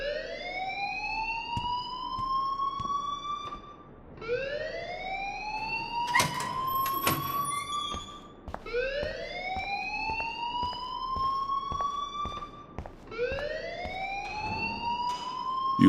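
A fire alarm in the video game Life is Strange wails in repeated rising whoops, about one every four seconds, steady and loud with no voices over it.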